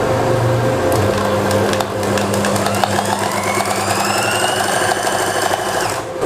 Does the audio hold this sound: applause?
no